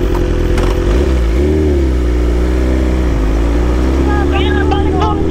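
A BMW big bike motorcycle engine running up close, a loud steady drone with rising and falling revs, while people talk over it.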